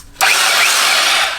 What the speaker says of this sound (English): So let's drill a hole in the concrete and see how it works.